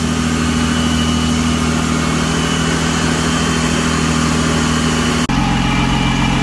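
Nissan 350Z engine idling steadily as it warms toward operating temperature after a coolant bleed, a loud close continuous hum with a slight shift in tone near the end, no talk.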